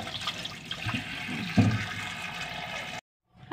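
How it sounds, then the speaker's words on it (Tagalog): Cassava being washed in water, a running, splashing wash that carries on for about three seconds, then stops abruptly before a brief return of water noise. "Dalawang beses natin hugasan, guys, para sure na"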